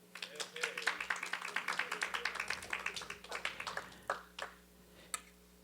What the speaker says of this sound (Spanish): Un aplauso para Isaac.